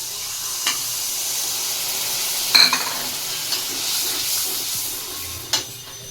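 Ground mustard and poppy seed paste hits spices frying in oil for a Bengali pabda fish curry, bringing a steady close sizzle broken by a few sharp spoon clinks and stirring scrapes.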